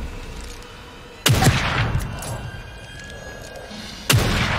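Gunshots in The Evil Within 2: two loud, sharp blasts a few seconds apart, each ringing out over a low, rumbling game ambience with no talk.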